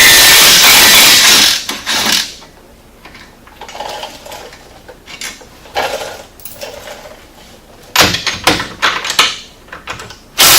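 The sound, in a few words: 3/8 ratchet and 15mm wrench removing nuts on RZR hub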